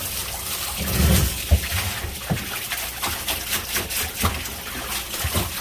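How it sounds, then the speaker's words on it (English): Water from a hose runs and splashes into a tub as rocks are washed, a steady close wash with a few heavier clunks and bursts near the start. "now what I'm going to do is use the water to wash the rocks"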